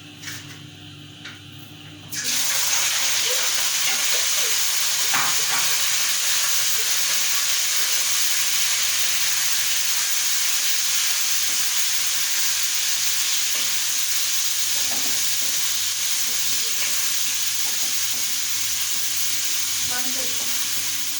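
Boneless cut chicken is dropped into a pan of browning garlic, and a loud, steady sizzle erupts and holds without a break, with occasional faint stirring knocks beneath it.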